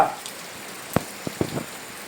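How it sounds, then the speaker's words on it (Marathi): Steady rain falls on a village, a faint continuous hiss broken by a few sharp drip-like taps near the middle. "गावाला पाऊस पडतोय कंटिन्यू सकाळपासून सकाळी आल्यापासून कंटिन्यू पाऊस पडतोय"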